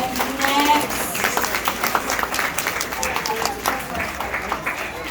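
An audience at a 6th grade promotion ceremony claps in a steady patter of applause, moderately close, with voices talking over it.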